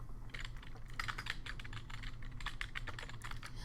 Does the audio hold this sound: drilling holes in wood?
no